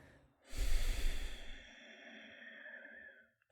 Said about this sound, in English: Let's exhale out.